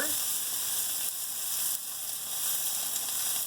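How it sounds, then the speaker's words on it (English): Steady, bright sizzling of green beans searing with shallots in a hot pan, continuous and fairly close, with no talking. "And you hear this nice sear."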